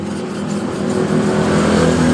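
A Yamaha Mio motorcycle engine with leaking valves runs steadily up close, a loud continuous buzzing idle with a rough, slightly uneven tone and no talk over it.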